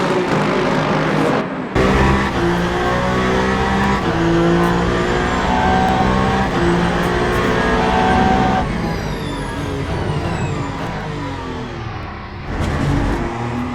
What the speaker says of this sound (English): 7 Toyota just ahead of the number 3 Puegeot of Mars Medina.